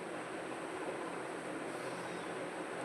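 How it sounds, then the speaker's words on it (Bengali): Strong, steady wind blows at a house beside the sea, a continuous broadband roar without gusts or breaks, filling the whole stretch with no voices. "দেখো কীরকম বাতাস হচ্ছে আমাদের ঘর তো সমুদ্রেরই ধারে তাই খুব বাতাস হলে খুব জোরে বাতাস বয় এখানে"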